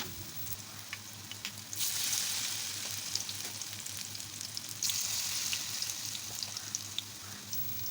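Moong dal pakoras deep-frying in hot oil, a steady close sizzle with crackling pops that grows louder as more batter drops in, with no voices.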